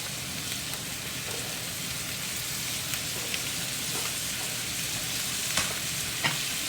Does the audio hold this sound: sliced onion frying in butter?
yes